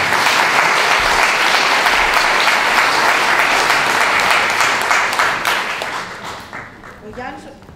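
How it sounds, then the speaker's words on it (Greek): Warm applause for a choir at a memorial event commemorating the Pontic Greek genocide, dense hall clapping that holds strong and then tapers off, with a voice emerging as the clapping fades. "υποδεχτείτε την για να θερμό χειροκρότημα"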